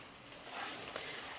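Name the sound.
sautéing garlic and onion in oil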